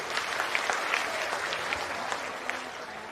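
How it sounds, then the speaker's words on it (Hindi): A crowd at a political rally in Bihar breaks into sustained hearty applause, steady dense clapping throughout, with a faint voice in the background. "अब एक बार जोरदार ताली बजाइए आदरणीय प्रधान जी के लिए।"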